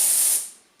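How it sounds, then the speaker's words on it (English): A single short burst of fine mist sprays from a non-aerosol pump sprayer of bike oil, a close, bright hiss that fades quickly into silence. "I can show you on this how fine this spray is."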